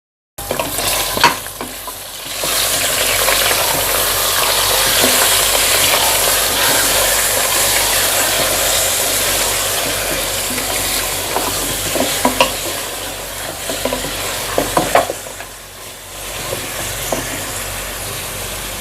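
Mutton pieces sizzle and fry with light golden-brown onions in a pressure cooker pot while being stirred, a loud steady hiss with scraping clatters over about nineteen seconds, no talking.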